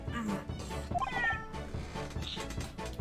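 A cat meows in The Great Ace Attorney Chronicles video game, a drawn-out mew rising over game music and background voices, moderately loud.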